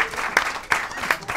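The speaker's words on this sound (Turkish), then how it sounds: "Alkışlıyoruz." Brief applause for a contestant on a Turkish quiz game show: a few sharp claps stand out over a dense, noisy wash of clapping, with a faint murmur underneath.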